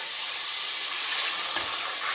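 Mutton pieces frying in hot oil with green cardamom give a steady, close bright sizzle and hiss with a faint stir partway through.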